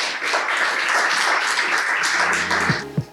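Conference audience applauding after a keynote on knowledge governance in Africa, a steady wash of many hands clapping that continues evenly for about three seconds and then fades.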